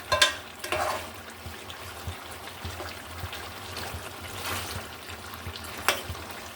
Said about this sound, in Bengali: ভালো করে কষিয়ে নিতে হবে সব মশলা যেন মাংস মাংসের ভিতরে ঢুকে যায়